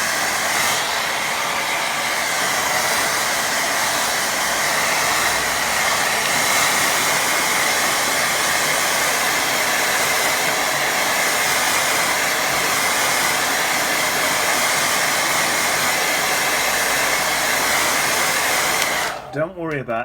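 A hair dryer blows steadily over a watercolour painting of bluebells in a forest, a loud, constant whooshing whir held close for the whole stretch before cutting off abruptly at the end.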